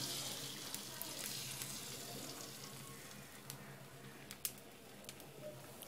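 Thin rice-flour batter for patishapta pitha spreads across a hot, oiled pan and sizzles in a soft, steady hiss with faint crackles and small pops.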